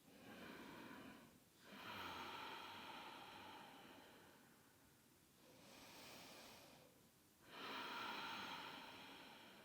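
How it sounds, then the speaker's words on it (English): Slow ujjayi yoga breathing through a partially closed throat makes a soft snore-like hiss, heard as long drawn-out breaths rising and falling in a quiet room, with short pauses between them. "you partially close the epiglottis at the back of the throat, and you start to hear that snoring sound"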